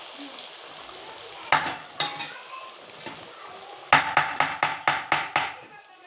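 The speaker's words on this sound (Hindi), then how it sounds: "देखना आज तेल में हमारे फ्रेंच फ्राइज" French fries frying in oil, a continuous sizzle broken by a few sharp metallic taps, then a quick regular run of about eight strikes, with no talk.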